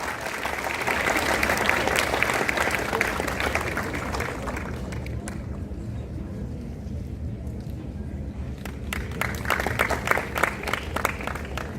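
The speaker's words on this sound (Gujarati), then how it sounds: "તાળીઓથી વધાવી લઈએ." An audience at a homoeopathic summit in Vadodara applauds a doctor with sustained, dense clapping that swells, dips in the middle, then rises again with sharper individual claps.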